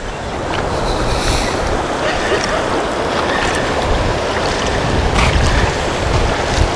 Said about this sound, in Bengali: জলের শব্দটা শুনুন।